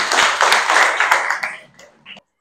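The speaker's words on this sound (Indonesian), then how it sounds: "Kasih tepuk tangan dong." A group claps hands together, heard as loud, close, rapid clapping that thins out and fades away after about two seconds.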